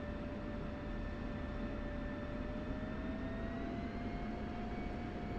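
A fighter jet taxiing in the DCS flight simulator game: a steady, even engine roar with a sustained high whine rising slightly in pitch, close and continuous, with no talk over it.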